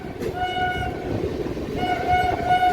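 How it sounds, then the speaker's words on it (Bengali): A local train runs on the Howrah–Belur Math line, its steady rumble and rail noise close and continuous, overlaid by two sustained horn blasts separated by a short gap. "যদিও শত্রুর মতন একটা লোকাল ট্রেন মাঝে ঢুকে গেল"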